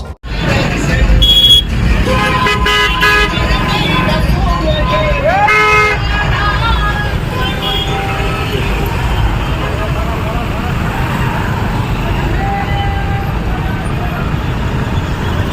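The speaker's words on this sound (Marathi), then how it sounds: "हा गाड्यांचा ताफा जाताना आपल्याला या ठिकाणी पाहायला मिळतोय" A convoy of vehicles heads to a political rally at Antarwali Sarati in Maharashtra, with repeated horn toots over a steady, loud roadside rumble of passing engines.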